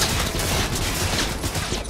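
A rapid burst of automatic gunfire from Cyberpunk 2077 rattles close and loud, with a police shootout in the video game, dense continuous shots with no gaps, and no talking.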